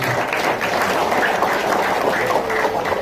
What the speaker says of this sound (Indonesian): Tepuk tangan dong buat kita